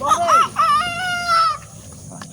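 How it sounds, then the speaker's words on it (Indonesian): A male red junglefowl crows loudly nearby, a rising then sustained call, with a brief voice at the start. "Ayam hutan jantan."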